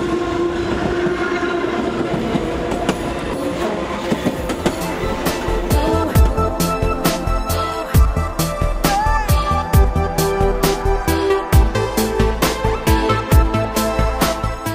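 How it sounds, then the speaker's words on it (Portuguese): A train arrives along the railway line in Juatuba, Minas Gerais, growing louder with a horn blast and then a rapid, rhythmic clatter of wheels over rail joints close by. "vamos sair que já está chegando o trem aí, gente"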